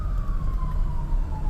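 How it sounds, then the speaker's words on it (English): An ambulance siren approaches from behind in city traffic on a Saturday night, its single wailing tone sliding slowly downward over steady road rumble. "Oh, we got an ambulance behind us."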